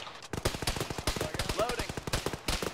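Machine gun fire in a military tactical video game, rapid close bursts of loud rattling shots, almost continuous over a few seconds, with voices faintly present.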